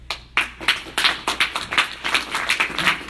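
An audience at a college poetry reading claps in a steady, rhythmic unison beat, a run of evenly spaced loud claps from a crowd.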